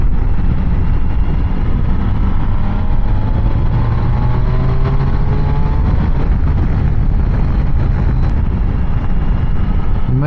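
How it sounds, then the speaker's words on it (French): Triumph Tiger 800 motorcycle engine runs continuously at close range, with rising and falling tones suggesting revs climbing, mixed with steady wind and road noise. "le moteur s'énerve vraiment à partir de 4000 tours"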